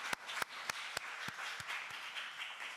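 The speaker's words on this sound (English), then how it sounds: "Let's give them a round of applause" At a Sunday service, a congregation applauds the choir with a soft, steady wash of clapping. A few louder, sharper individual claps stand out at roughly regular intervals, and no one speaks.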